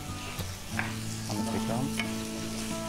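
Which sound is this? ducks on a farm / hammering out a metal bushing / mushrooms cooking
mushrooms cooking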